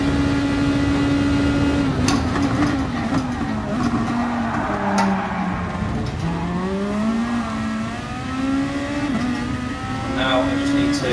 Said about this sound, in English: It's a bit of slipstream braking down the straight.